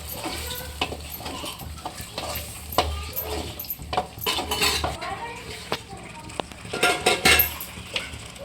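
Ground masala being stir-fried with onions in a pan for egg sambar, with a spoon scraping and clinking against the metal in irregular bursts over a low sizzle, close up.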